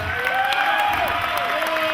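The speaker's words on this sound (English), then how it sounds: "let's give David Finlay a round of applause" Applause and cheering from a professional wrestling crowd, a short continuous roar of clapping and voices at steady loudness, with a sustained tone running through it.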